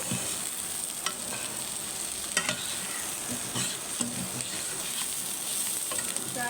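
Bitter gourd (karela) slices sizzling in a frying pan, a steady hiss broken by sharp stirring clicks and scrapes of a spatula at irregular intervals, close up, with no talking.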